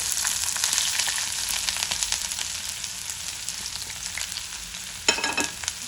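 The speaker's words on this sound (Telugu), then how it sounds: "ఆనియన్స్ మాత్రము గోల్డెన్ బ్రౌన్ అయినంత వరకు ఫ్రై చేసుకోవాలి." Onions fry with garlic and green chillies in a pan, a continuous close sizzle full of small crackles, with a sharper burst of scraping stir near the end.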